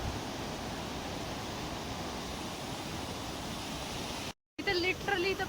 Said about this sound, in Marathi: हे पूर्ण असं पाणी इतकं वाहत होतं